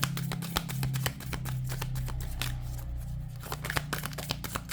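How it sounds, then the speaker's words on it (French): Playing cards are drawn and shuffled during a card-reading session, making a series of quick, close riffles and flicks. A low hum plays under them and no one speaks. "prends une carte, deux cartes, trois cartes, comme d'habitude"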